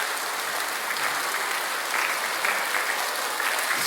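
A large congregation at a world youth convention claps nonstop as a timed exercise, a thick, unbroken roar of many hands that holds steady throughout.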